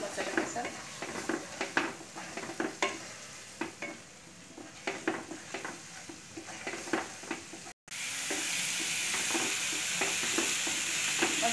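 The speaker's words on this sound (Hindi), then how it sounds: "टमाटो को भी थोड़ा फ्राई कर लेती हूँ मसाले के साथ" Tomato puree frying with dry spices in a pan for chana paneer, a steady sizzle under repeated stirring scrapes, getting louder and denser in the last few seconds.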